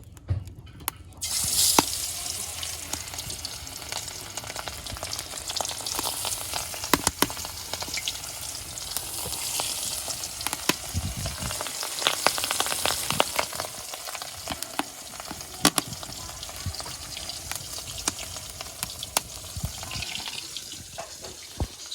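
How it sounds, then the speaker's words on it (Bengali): Fish coated in salt and turmeric fries in hot oil in a pan over a dung-fuelled village stove, giving a steady crackling sizzle with sharp pops and a bit of stirring throughout, close by and with no talking. "তেল গরম হয়ে গেছে কড়ার লবণ হলুদ দিয়ে মাছটাও মাখিয়ে নিয়েছি"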